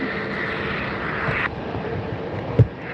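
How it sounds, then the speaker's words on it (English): Southwest Boeing 737 MAX 8 jet at an airport, a steady broad engine roar at moderate distance with a brief thump near the end and no talking. "This is flight 3853 on Southwest. 737 MAX 8."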